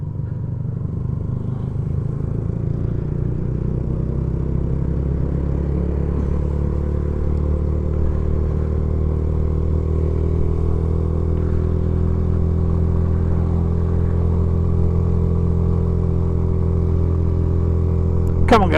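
A vehicle engine labours steadily up a hill, a continuous loud mid-to-low drone that holds throughout, close and even, with no voices over it.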